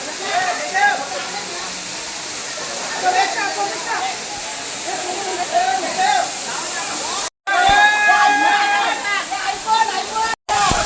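A steady, broad rush of water falling from above caves fills the scene continuously, at Kondhana Caves, Karjat, with voices and faint calls carrying over it.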